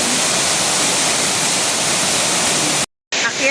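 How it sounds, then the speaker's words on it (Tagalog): A waterfall inside the Fung Tak Park temple grounds roars with a loud, dense, steady rush of falling water, broken by a brief total dropout before the noise resumes. "May falls sa loob na."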